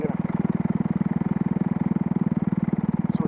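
A paramotor's engine runs steadily at a constant throttle, a loud, close, evenly pulsing drone that holds without a break.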